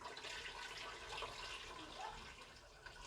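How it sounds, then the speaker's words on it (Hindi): Roughly a litre of water pours into a pot of beef nihari, a steady broadband splashing stream that runs continuously and fairly quietly for about three seconds with no voices. "अब हम इसमें तकरीबन 1 लीटर के करीब पानी ऐड करेंगे।"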